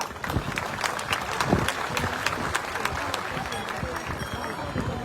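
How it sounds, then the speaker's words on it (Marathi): Rapid applause from a crowd at a Marathi religious gathering, the week-long Akhand Harinam Saptah, with dense overlapping claps rising and falling while voices murmur underneath. "जोरदार टाळ्या."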